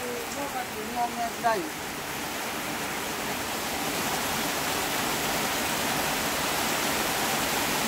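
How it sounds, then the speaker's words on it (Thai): Steady rain falling over rice fields in rural Thailand, a dense even hiss that swells slightly and continues alone after someone speaks briefly at the start. "ฝนตกค่ะ"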